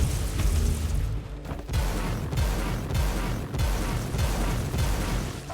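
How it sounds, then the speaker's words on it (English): Artillery strike explosions in Warhammer 40,000: Inquisitor, a series of deep, booming thuds at a steady rhythm over a constant loud rumble of battle noise, with no talking. "A artillery strike, ain't that neat?"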